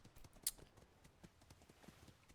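Hoofbeats of a horse in a multiplayer video game patrol scene, a quiet run of soft clip-clop steps at a distance, with one sharper click standing out early.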